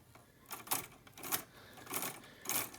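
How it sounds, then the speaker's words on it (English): A Lego axle spinning on a homemade Lego sledding simulator, giving four evenly spaced bursts of soft plastic rattling and clicking, close and faint, with no talk. "right here, we can spin that axle"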